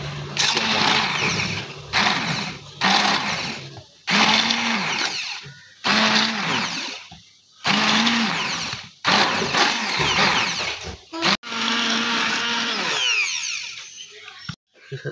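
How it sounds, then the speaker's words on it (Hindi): An electric hand beater whirs in bursts through mint chutney, stopping and restarting several times with short pauses, loud and close. "अब इसको हम अच्छी तरह हैंड बीटर की मदद से बीट कर"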